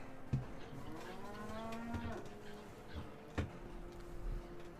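A cow moos in the Sam and Max video game, one long, low drawn-out moo against a faint background with a few soft knocks.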